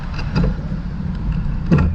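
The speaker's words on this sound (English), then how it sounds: "Listen to the little mobility scooter go." A small electric mobility scooter hums along in traffic with a steady low motor drone and faint road noise, fairly close and continuous.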